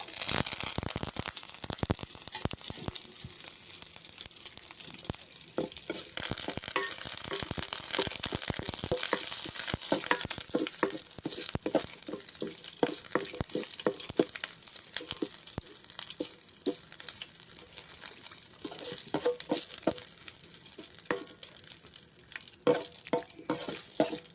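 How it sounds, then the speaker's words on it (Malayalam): Curry leaves fry in a pan for jackfruit erissery, giving a soft, continuous sizzle and crackle with light stirring clinks. The sound is fairly faint and stays even throughout, with no speech. "വാടി വരുമ്പോൾ നമുക്ക് കരിവേപ്പില ഇട്ട് കൊടുക്കാം."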